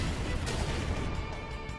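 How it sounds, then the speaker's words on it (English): A magma bomb attack in Chrono Cross lands as a dense, rumbling blast with crackling debris, loud and sustained, then slowly tapering. "Then with that magma bomb."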